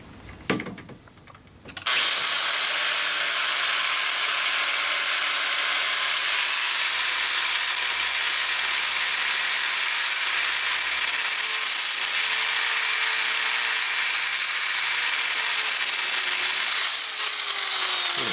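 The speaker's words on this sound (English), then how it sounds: "So I picked a dull flap disc because it's narrower and it's easier to get in, but let's give it a try." Angle grinder fitted with a dull, narrow flap disc grinding on a Polaris RZR axle during an axle swap: after a brief start, a loud, steady, high-pitched grinding roar runs nearly uninterrupted up close.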